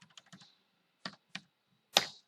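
Keys tapped on a computer keyboard while entering a name into a spreadsheet cell: a quick burst of light clicks, a pause, then two separate taps and a final firmer keystroke, close and clear with no talking.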